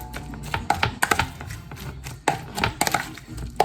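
Guacamole dip with fresh lime is mixed by hand in a bowl, giving a series of irregular, close wet thuds and scraping knocks, some sharp and some soft, with no talking.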